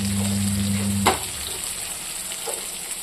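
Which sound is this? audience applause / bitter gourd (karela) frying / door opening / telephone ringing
bitter gourd (karela) frying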